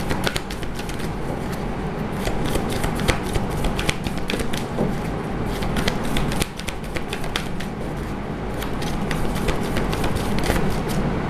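Tarot cards being shuffled, a dense continuous riffle of crisp paper flicks close to the microphone, steady for the whole stretch with no talking.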